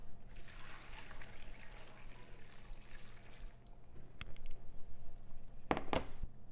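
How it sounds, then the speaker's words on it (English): Four cups of red wine trickle and pour into a large roasting tray lined with leeks, a quiet steady liquid stream, followed by a few light knocks and clatters near the end. "I'm going to go in 4 cups of red wine."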